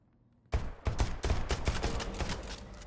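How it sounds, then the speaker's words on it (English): Rapid gunfire in the video game Deceit 2 breaks out suddenly after a moment of quiet, then carries on as a loud, dense burst of repeated shots with no talking. "Someone's shooting behind."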